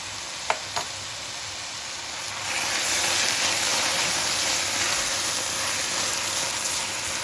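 Vegetables for borscht fry in a pan, a steady close hiss and crackle that swells louder partway through after a couple of sharp clinks at the start, with no talking.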